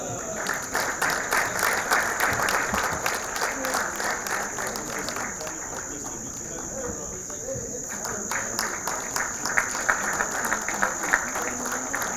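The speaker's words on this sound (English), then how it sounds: "May we clap for that?" An audience at a formal ceremony claps for a portrait of the late Jacob Oulanyah, with sustained, even applause running throughout alongside a steady high whine and some voices.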